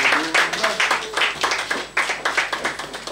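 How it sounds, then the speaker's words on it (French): An audience at a fashion show for accessories in Cotonou claps loudly and close by, a brisk run of dense, uneven hand claps that keeps going without a break. "Applaudissements pour eux, s'il vous plaît"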